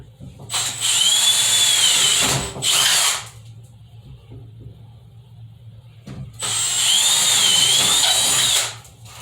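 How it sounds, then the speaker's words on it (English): Two bursts of a power drill boring through hard material, each a few seconds long with a high whine, separated by a quiet pause. "I have to drill through it. So I'm going to drill my 2 holes here"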